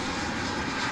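Aircraft engine noise from an airplane at DFW Airport at daybreak, a steady, loud, broadband roar that fills the whole second without a break.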